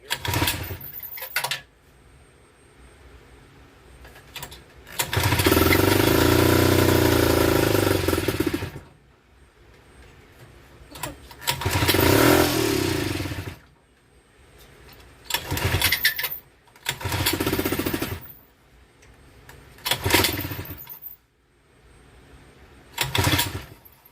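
A Tecumseh-powered boat motor needing carburetor work is pulled and cranked repeatedly, catching in several loud bursts of sputtering engine roar that each die back to quiet between attempts.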